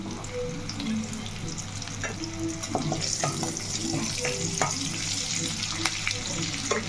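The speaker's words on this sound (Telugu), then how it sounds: "నూనె వేద్దామండి ఎందుకంటే మనకి చేపలు వేస్తాం కాబట్టి నూనె తక్కువ అయిపోయింది" Oil sizzles in a pan for a dry fish curry with brinjal and tomato, a steady close hiss with scattered clinks of utensils and no talk.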